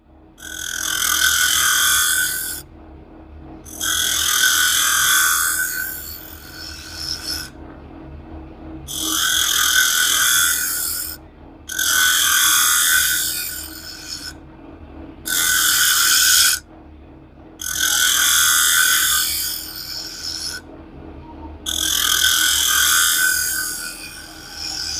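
A carbide tool cuts a spinning wooden bowl on a lathe, producing loud, harsh scraping bursts of a few seconds each, repeated in regular passes with brief pauses over a low motor rumble.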